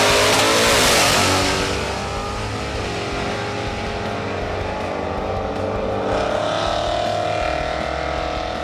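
A car engine revs loudly and steadily at high pitch, its tone dipping and climbing again as it holds a sustained roar, with no talk over it.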